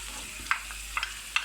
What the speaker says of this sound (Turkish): Şu anda biberlerimiz kızarıyor. Tereyağın içinde değil mi?